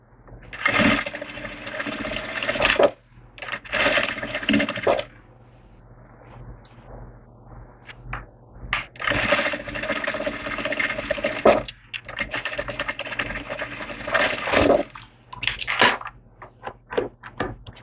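Sewing machine stitching a seam along a fabric edge for a Christmas door runner, running in several rapid bursts separated by short pauses, close and fairly quiet with light handling noises between runs.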